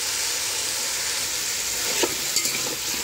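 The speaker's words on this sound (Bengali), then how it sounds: "আলুগুলি সুন্দরভাবে কষাবো।" Potatoes are sautéed with spices in a pan for a Bengali gourd-leaf and koi fish curry, giving a steady close sizzle and hiss with a couple of brief stirring scrapes and no talking.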